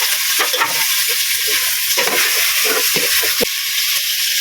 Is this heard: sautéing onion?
yes